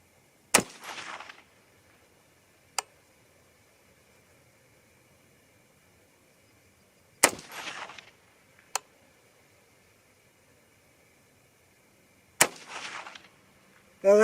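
Three sharp rifle shots from 6.5 Grendel handloads fired at a target outdoors, each loud crack followed by a brief decaying echo, spaced several seconds apart with fainter clicks and distant pops between them.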